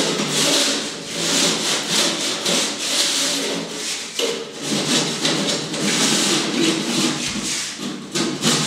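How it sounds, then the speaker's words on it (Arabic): Hand plane shaving the knife-cut edges of gypsum board for a drywall drop ceiling, a steady close rasping scrape of repeated strokes with no talk. "بنحفهم بالفارة لأنه إلا ما يطلع نتوء وزيادات بعد قص المشرط"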